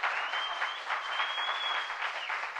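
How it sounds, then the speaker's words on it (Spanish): A church congregation applauds the Lord during a sermon, a dense, steady wash of many hands clapping at even volume, with a faint sustained tone running through it. "Dele un aplauso al Señor."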